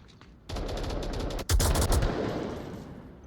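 Close, loud automatic rifle fire in the VR shooter Onward, one sustained burst and then a second heavier burst that trails off into echoing reverberation.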